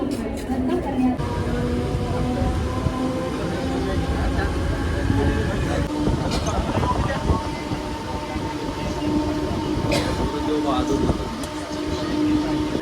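A Mumbai local train rumbles and hums steadily beside a Harbour line platform at Chhatrapati Shivaji Maharaj Terminus, with metallic squeals and a busy crowd noise around it, voices chattering nearby.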